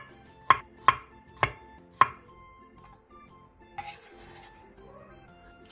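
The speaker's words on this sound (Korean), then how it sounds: "통마늘 10개를 얇게 편 썰어주세요." A knife thinly slices whole garlic cloves with four sharp, evenly spaced strokes against a cutting board. Quieter handling noise follows.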